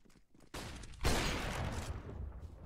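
Video game gunfire, a sharp burst of shots followed by a longer rushing blast that fades out, loud and close with no speech over it.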